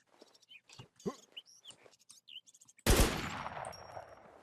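Gunfire in the video game Infestation: after a few seconds of soft murmuring voice, a sudden loud burst of shots erupts and rings out, fading over the last second and a half.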